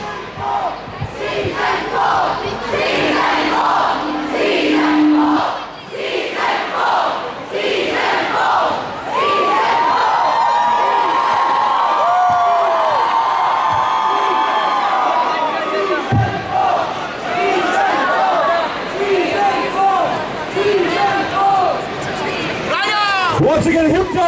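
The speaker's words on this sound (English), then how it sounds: "once again, a huge round of applause for Mr. Mark Gatiss." A large crowd at the Mumbai Film and Comic Con 2014 cheers, shouts and claps for a guest, loud and continuous. Whoops and yells rise and fall over steady applause and crowd babble.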